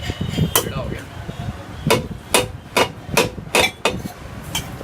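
A hammer strikes a bent metal silencer bracket on a Honda Activa scooter during servicing, a run of sharp, ringing blows at an uneven pace, close and loud, with low workshop murmur underneath.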